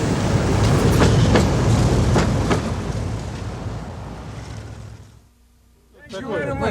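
A Soviet-era subway train or tram rumbles loudly and continuously with rhythmic wheel clatter, fading to near quiet before another metallic screech and rumble rise at the end; a voice talks over it.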